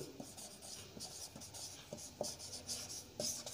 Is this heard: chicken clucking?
no